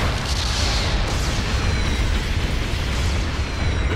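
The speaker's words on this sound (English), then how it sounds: "Your mobile suit has been destroyed." Mobile suit exploding in Gundam Battle Operation 2, a loud sustained rumbling blast filling the whole few seconds with dense roaring noise and no speech.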